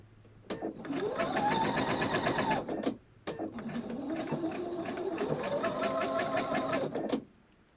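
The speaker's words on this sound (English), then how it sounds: "is my sewing machine too loud?" A sewing machine runs in two bursts of steady, rapid mechanical stitching with a rising and falling motor pitch, separated by a short pause. It sounds close and fairly loud, with no talking.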